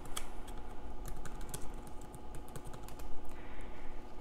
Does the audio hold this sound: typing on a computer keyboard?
yes